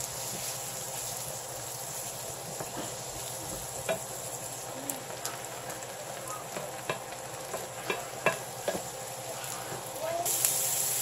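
Onions frying in a pan for pork sisig, stirred with a utensil: a soft, steady sizzle broken by scattered scrapes and light knocks, a few louder clacks near the end, all fairly quiet.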